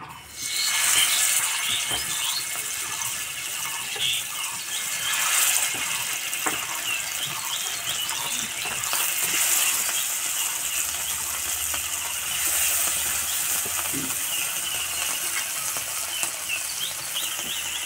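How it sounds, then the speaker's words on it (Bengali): Fish frying in mustard oil on a flat griddle over low heat, a steady close crackle and hiss with scattered small pops and spatters throughout, no voices. "আস্তে আস্তে জাল দেবো, ভেজে নেব।"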